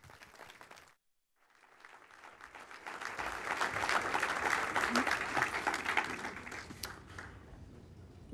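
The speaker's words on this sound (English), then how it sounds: "let's give a warm round of applause to our next speaker" An audience at a service celebration dinner applauds an arriving speaker, with a brief pause before a swell of clapping that builds to a dense peak and then gradually thins, with faint voices beneath.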